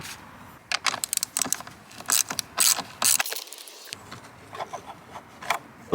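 A ratchet wrench rapidly clicks in short bursts while unbolting a battery fitting in a Skoda, Audi or VW engine bay, loud and close, with a brief pause partway through.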